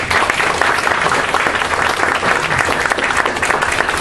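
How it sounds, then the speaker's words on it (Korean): A lecture audience claps in a steady, full round of applause after a two-hour standing talk, loud and continuous throughout with no pauses. "2시간 동안 서서 강의해 주신 정선영님에게 다시 한번 박수"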